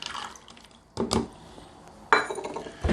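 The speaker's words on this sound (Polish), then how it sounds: "Bierzemy pojemnik, w którym będziemy moczyli nasiona i je po prostu wrzucamy." Palm seeds dropped into a water-filled soaking container, landing in three separate bursts of light clinks and small splashes against a quiet background.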